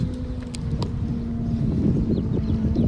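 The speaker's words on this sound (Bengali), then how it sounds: "অনেক হাওয়া চলছে এখানে।" Wind at the seaside in Dubai buffets the microphone in a steady low rumble, with a few faint clicks early on and a constant hum underneath.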